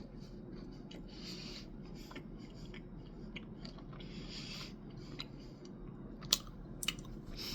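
Faint, close crunching and chewing of a cranberry white chocolate cookie, soft rhythmic bites and mouth sounds over a quiet room hum, with a couple of sharp clicks near the end and no talking.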